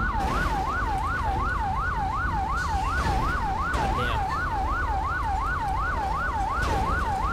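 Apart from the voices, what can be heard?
emergency vehicle siren in GTA 5 video game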